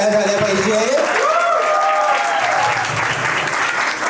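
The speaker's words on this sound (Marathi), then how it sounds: "वेदांसाठी एकदा जोरदार टाळ्या झाल्या पाहिजे." A party crowd gives loud, sustained applause for Vedant, a national cricket player celebrating his 12th-grade success, with whoops and a voice rising above the clapping.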